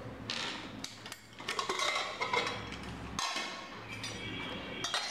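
A pressure cooker is opened after cooking sambar rice, with close metallic clicks, scrapes and clanks of the lid being handled, and a faint hiss at times.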